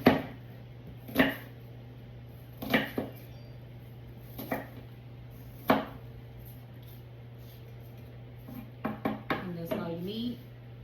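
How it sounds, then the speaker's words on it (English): A knife chops a Granny Smith apple into chunks on a cutting board, about six sharp separate knocks followed by a quick cluster of cuts, close and quiet in a still kitchen, with faint voice near the end. "And this is a Granny Smith apple. And we just chop it up in chunks."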